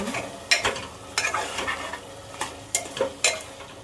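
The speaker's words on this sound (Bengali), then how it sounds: "আমি কালারের জন্য হালকা কাশ্মীরি লঙ্কা দিয়ে দেবো লঙ্কার পুরোটা আর আমি কিছুটা নেড়ে দেবো মাংসটা" Mutton stirred with Kashmiri chilli in a frying pan, steady close sizzling under repeated scraping strokes of a spoon against the pan, several sharp clacks spaced about half a second apart.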